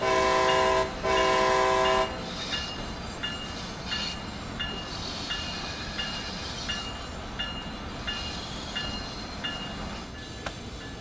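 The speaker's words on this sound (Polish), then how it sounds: "posłuchajmy tej niesamowitej syreny w tej lokomotywie pasażerskiej" Simulated horn of an Amtrak ACS-64 passenger electric locomotive in Train Sim World 3, two loud sustained blasts at the start, followed by the steady rumble of the moving train with rhythmic wheel clicks over the rails.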